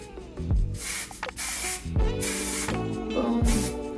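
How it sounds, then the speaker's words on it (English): Several short bursts of aerosol hairspray hiss close by, separated by brief pauses, with light handling clicks between them. "I'm going to spray."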